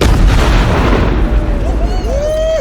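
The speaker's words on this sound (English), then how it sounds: "the biggest explosion I've ever set off in the history of my channel" A huge deliberate explosion, the largest set off so far, rolls out as a loud, sustained roar of deep rumbling, with thin rising whistle-like tones emerging near the end.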